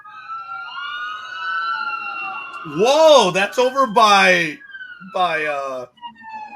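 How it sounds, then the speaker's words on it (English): Emergency vehicle sirens wail outside, a long rising and falling tone running through the whole stretch, fairly loud, while people talk and exclaim over it. "You would think you'd hear the sirens by us, but no, they're by him."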